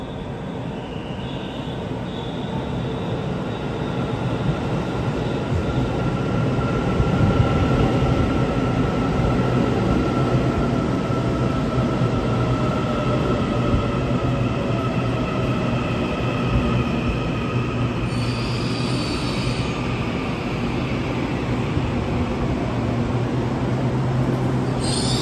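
A train runs along the rails in Taiwan, a continuous loud rumble and rattle that swells slightly midway, heard from inside or close by.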